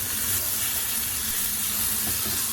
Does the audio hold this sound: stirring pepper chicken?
yes